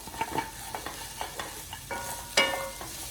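Beef for crispy chilli beef sizzles in a hot pan while it is stirred, with a steady frying hiss under repeated scraping strokes and one sharper clatter near the end.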